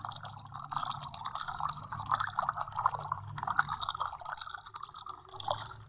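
Paint pours in the Colour War 3D video game as a continuous watery gush of sloshing, dripping liquid sounds at moderate level, steady throughout.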